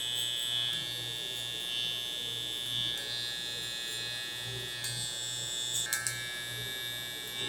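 Electric hair clippers buzz steadily while cutting curly hair during a low taper haircut, a close, pulsing hum with intermittent higher whines as the blade meets the hair and shifts position.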